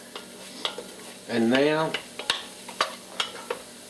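Garlic sizzling in a cooking pot for shrimp and andouille sausage gumbo: a steady soft hiss, a short scraping stir and scattered light clinks of a utensil, with a few brief spoken words.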